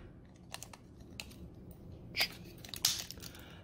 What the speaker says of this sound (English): pushing it down until it clicks shut again